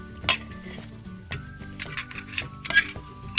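Light plastic clinks and taps of a toy egg cracked into a toy pan from a breakfast-in-bed kitchen playset, a few sharp knocks close by with little talk.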